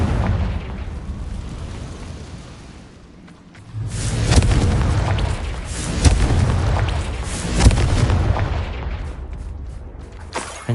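A Confringo fire spell in the video game Hogwarts Legacy, played on PS5, bursts in a series of loud, booming explosions with rumbling blasts that swell and fade, and no talking.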